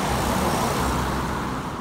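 Cars roll past on a city street as a loud, steady wash of close traffic noise and engine rumble, with no voices.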